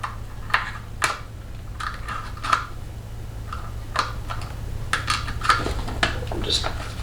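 An X-Acto knife cutting a small star shape, a run of sharp, close ticking and scraping clicks spaced irregularly over a steady low hum.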